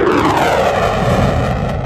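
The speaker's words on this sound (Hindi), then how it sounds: "एक स्पाइस जेट जब टेक ऑफ करता है, तब उसकी ध्वनि" A SpiceJet passenger jet taking off produces a loud, continuous engine roar that fills the whole stretch without any break or voices.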